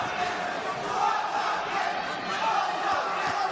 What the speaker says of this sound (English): Crowd enjoying this fight.